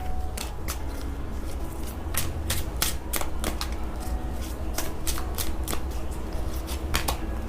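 Tarot cards are handled and set aside during a card reading, making crisp, rapid flicks and slaps of card stock in irregular bursts, close and fairly clear with almost no speech.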